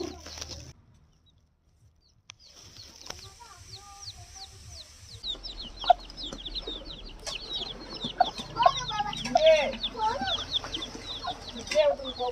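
Chickens cluck and call close by as earthworms dug from the soil are tossed to them, with bird chatter, scattered pecking and rustling building up after a quiet start.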